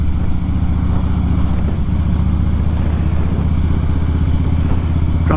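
A motorcycle engine runs steadily nearby, a continuous, loud, even drone with a steady low-pitched throb and light mechanical clatter throughout.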